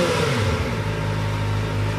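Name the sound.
Kawasaki ZX-4RR motorcycle engine first rev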